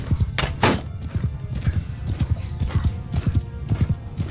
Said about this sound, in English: You guys can't catch me on my horse,